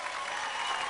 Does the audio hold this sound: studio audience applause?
yes